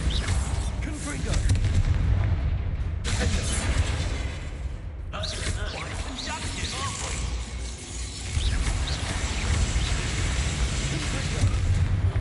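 Explosive Confringo fire-blast spells in Hogwarts Legacy burst with loud booming blasts and mechanical rumbles, broken by brief gaps, over continuous game ambience.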